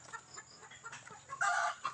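Chickens cluck close by in short, repeated bursts, with one louder squawking run partway through.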